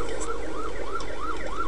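A police or ambulance siren in the video game Nightmare House 2 wails steadily in a repeating rising-and-falling pattern, loud and continuous with no talking.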